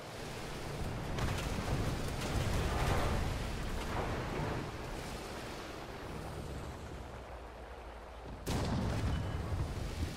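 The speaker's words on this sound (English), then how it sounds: "Right now I'm getting hit with a little bit of arty" Artillery hits rumbling against a tank in War Thunder, deep booming blasts rolling one after another with a long noisy roar between them and a sharp new impact near the end.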